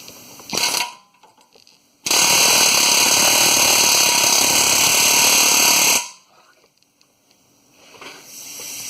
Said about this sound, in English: just get the air chisel out.